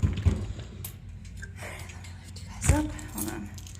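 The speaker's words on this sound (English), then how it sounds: "so I'm not gonna drop my keys." Keys jangle briefly in short metallic bursts near the microphone, with a louder rattle toward the end, amid outdoor bike-ride background noise.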